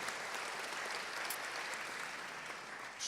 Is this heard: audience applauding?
yes